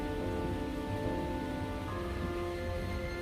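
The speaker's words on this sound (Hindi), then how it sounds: "बारिश शुरू हो गई।" Rain falls in a steady, even wash of hiss with no breaks, under a faint sustained tonal hum.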